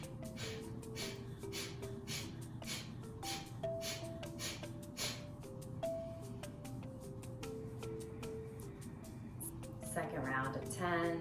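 Kapalabhati breath of fire: rapid, forceful rhythmic exhalations through the nose repeated in a steady train, with soft background music underneath.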